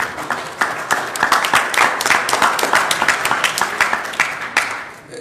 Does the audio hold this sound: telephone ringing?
no